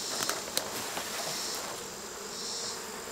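Honey bees hum steadily inside an open hive, a dense continuous buzz close by, with a few faint taps and clicks and no talking.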